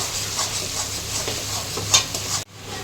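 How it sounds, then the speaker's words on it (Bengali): Onion paste with green and red chillies stirred in frying oil for a pomfret curry: a steady close sizzle under regular spatula scrapes and a sharp metallic clink, ending in an abrupt cut to near silence. "এবার পেস্ট করে রাখা পেঁয়াজ আর কাঁচা পাকা লঙ্কা দিয়ে দিচ্ছি। তেলের সাথে মিনিট 2 নেড়ে নিচ্ছি।"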